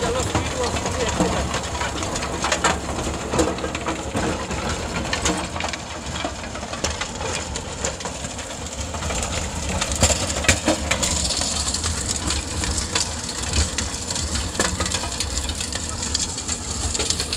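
A 5310 HPCR tractor engine drives a rotary tiller through farmland, making a loud, continuous rumbling drone with clattering, grinding texture that holds steady throughout.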